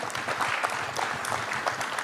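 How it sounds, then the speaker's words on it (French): Audience applause at a forestry round-table, steady dense clapping from a room crowd, moderately distant and even throughout. "Merci pour les applaudissements."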